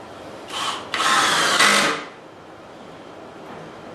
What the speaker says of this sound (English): I did pre-drill the holes in this piece of wood so that it wouldn't be so hard to get the screws in